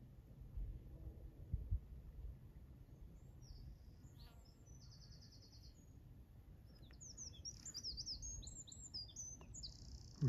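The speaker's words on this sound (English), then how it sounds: "Wrens singing" Wrens sing in bright, rapid trilling bursts at a distance in a wooded coombe with sycamores, faint over a low rumble of wind and handling noise, with song phrases recurring toward the end.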